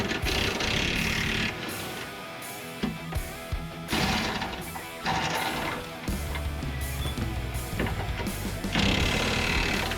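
A ratchet wrench cranks loose the 17mm front suspension bolts on a Honda Prelude project car during a traction bar install, its rapid clicking loud and close in repeated bursts with short pauses between strokes, and no talking.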